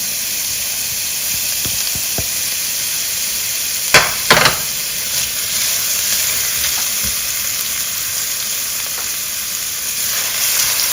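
Dried fish (daing) frying in hot oil with garlic and ginger, a close, steady sizzle and hiss with a couple of sharp spatters and stirring scrapes partway through, continuing evenly to the end.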